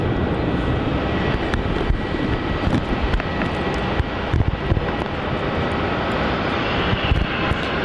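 Airliner arriving on runway 27 at Melbourne Airport, its engine roar steady and loud throughout, a broad continuous rumble with small fluctuations and no talk.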